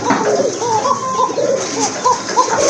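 Pigeons coo over and over in a steady, close stream of soft warbling calls with no pause. The birds are a collection kept for sale, including an Anabian pair.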